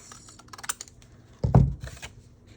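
Scissors snip across fabric for a junk journal project, one short crisp cut standing out after a few light taps and rustles, close and alone.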